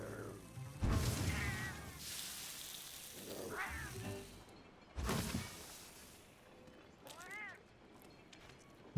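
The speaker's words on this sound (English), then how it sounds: "Kitty is so cool." A Palico cat companion in Monster Hunter World gives several short meows and yowls over game effects and music, moderately close, with no talk.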